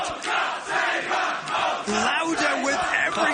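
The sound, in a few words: wrestling crowd chanting in ballroom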